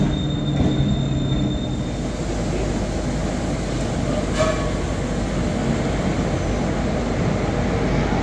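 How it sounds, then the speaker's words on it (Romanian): Astra Trans Carpatic passenger train pulling into a Romanian station: a steady, loud rumble of rolling wagons with a brief wheel squeal in the middle, close by and continuous with no voices. "Haideți că vine și trenul nostru."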